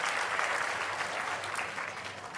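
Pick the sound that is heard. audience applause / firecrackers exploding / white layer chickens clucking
audience applause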